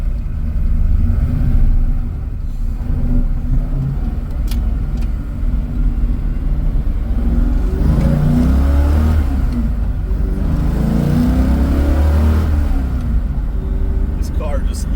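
A 1966 Ford Mustang with a 347 CI V8, Edelbrock intake and EFI rumbles and revs steadily in traffic, a continuous deep engine drone with someone talking over it.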